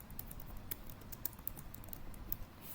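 Someone types a prompt on a computer keyboard, with a quiet, uneven run of close clicking keystrokes. There is no talking.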